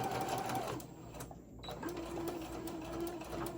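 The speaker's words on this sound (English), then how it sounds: "You're just gonna sew down the sides." A sewing machine stitches down the sides of a Halloween tote bag lining, its steady mechanical whir running close and continuous with a brief pause midway.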